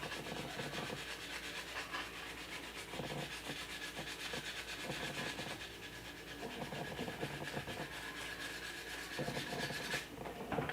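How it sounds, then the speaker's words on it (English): A 1/4 scale Xionart Spiderman figure is sanded lightly with sandpaper, giving a soft, close, continuous rubbing and scraping in steady back-and-forth strokes throughout. "I'm not putting any pressure, I'm just letting the sandpaper do the work, so I'm not pushing down on it."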